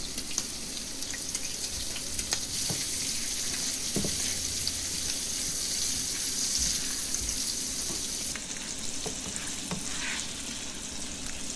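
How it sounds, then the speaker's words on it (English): Onions sautéing in reused oil in a pan for a smash surf and turf burger, a continuous loud close sizzle with light stirring scrapes and no voices. "And I use the same oil to saute my onions"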